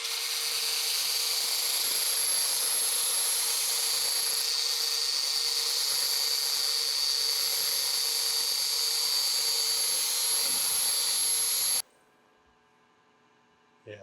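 A 120 grit flap disc on a grinder works steadily against a cast bandsaw wheel, a loud, continuous high whine and grinding rasp that cuts off abruptly near the end, leaving near silence.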